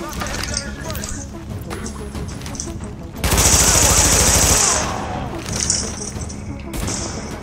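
Rapid bursts of gunfire in the video game The Division, a dense loud volley in the middle flanked by scattered shots, with talking over parts of it.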